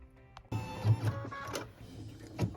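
A sewing machine stitches a tack-down line through quilt block fabric, a short burst of rapid mechanical whirring and clicking after a brief quiet start, fairly close.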